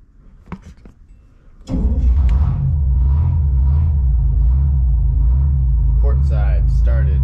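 Twin Detroit Diesel engines on a 1972 Hatteras 43 double cabin yacht cranking briefly, then catching and settling into a loud, steady, deep rumbling idle. Scattered voices talk over the running engines toward the end.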